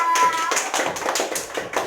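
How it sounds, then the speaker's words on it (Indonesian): Schoolchildren in an elementary classroom clap together in a quick rhythmic pattern, a run of sharp, evenly spaced claps with a voice briefly heard at the start. "Tepuk tangan buat kita semua."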